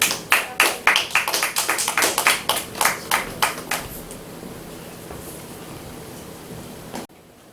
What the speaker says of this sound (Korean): 박수로 모실게요.